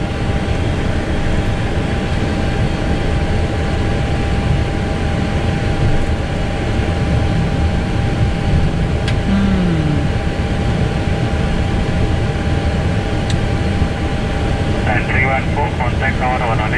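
Airliner engines droning steadily from inside the cockpit while taxiing on a flight to Samarinda, a constant loud hum with pilots talking over it throughout.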